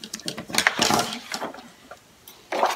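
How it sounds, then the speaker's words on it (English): Scissors cutting heart shapes out of red and pink paper, close snips and rustling sheets in short uneven bursts. "right now I'm just going to continue to cut out all my cute little heart shapes"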